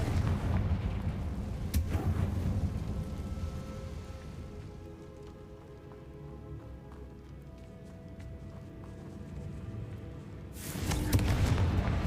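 A Confringo spell in Hogwarts Legacy bursts with a loud crackling blast at the start, followed by a quieter rumbling hiss, then a second heavy explosive burst near the end.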